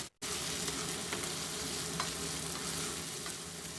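Cauliflower and potato pieces fry in oil with curry leaves and onion-garlic paste, a dense steady sizzle with soft scraping as they are stirred, close and continuous, no talk.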